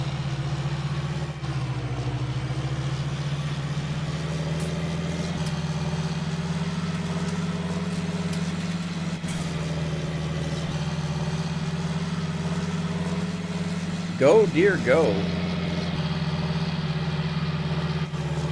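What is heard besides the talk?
John Deere tractor engine in video game Farming Simulator 19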